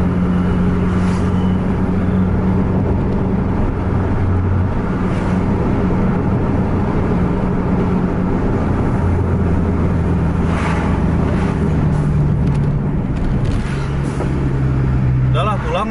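An Aerobus coach accelerating hard along a road, a loud continuous engine roar with shifting pitch from gear changes, heard from inside with people talking over it.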